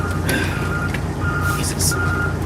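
A truck backing into a building sounds its reversing alarm, steady repeated beeps over a constant engine rumble, with a faint hiss of air brakes.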